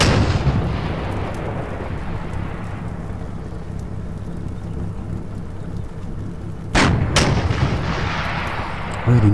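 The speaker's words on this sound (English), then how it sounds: "See my tanks laying down a little bit of fire on this building now." Tanks firing on a building in the Combat Mission Market Garden wargame: a deep rumbling boom opens, followed by a low continuous battle rumble, then two sharp, loud cannon blasts close together near the end.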